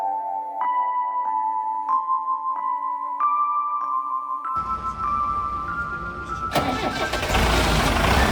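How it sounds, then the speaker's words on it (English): A hydraulic cable pulling machine's control panel gives a series of short electronic beeps, then its engine cranks and catches midway, rising into a loud, broad running roar that grows louder toward the end. "press the start button to start the engine"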